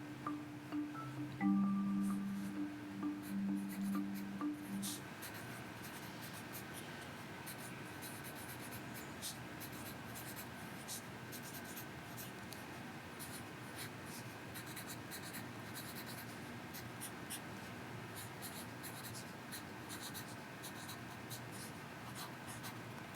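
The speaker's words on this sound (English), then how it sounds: "while you were speaking, I wrote down my connection" A teacher writing notes by hand in a first-grade lesson, a soft, steady scratch of pen or marker continuing for the whole stretch at low level, with faint background noise and no talking.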